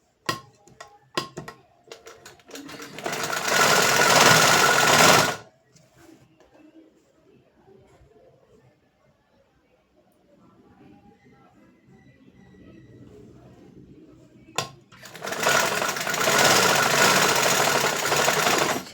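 Sewing machine stitching two fabric parts together with a half-inch seam, heard as two loud, steady runs of rapid stitching at the start and end, with a long quieter stretch of faint handling between.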